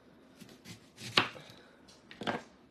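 A knife chops onions on a board with a few soft, uneven cuts and two louder, sharper chops, close and fairly quiet.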